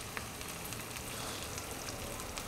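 Chopped onion frying in oil over a slow flame for Maddur vada, a steady, close, soft sizzle with fine crackling and no voices.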